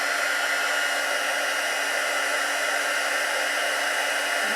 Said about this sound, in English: My heat tool just won't reach any further than this